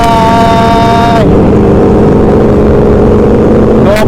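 A Kawasaki ZX25R motorcycle engine roars hard and steadily at very high revs on a street ride, loud and close, the whine shifting pitch sharply at the start and again near the end as the throttle changes.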